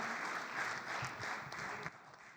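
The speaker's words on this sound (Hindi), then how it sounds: "जोरदार तालियों से इस्तकबाल कीजिए जनाब राजीव राज माइक पर।" Applause from a mushaira audience welcoming a poet to the microphone, a steady dense wash of clapping that carries on through the clip before tapering slightly near the end.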